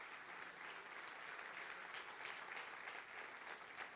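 A church congregation applauds in steady, continuous clapping that sounds fairly distant and faint, with no one speaking over it.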